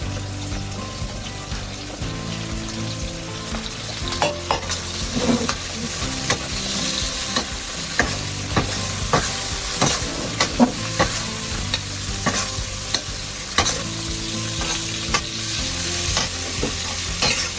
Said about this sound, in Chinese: 开大火把这个蒜苗放进去，先放这个蒜苗头。